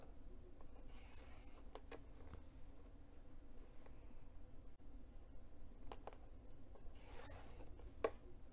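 A pen or marker scratches lines onto quilting fabric along a ruler set at a 45 degree angle, for a bag. Faint, dry strokes come in short bursts over a quiet room.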